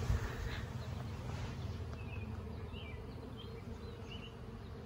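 Honey bees buzz outdoors while a hive is being moved, a steady, close droning hum with individual bees flying past at slightly varying pitches.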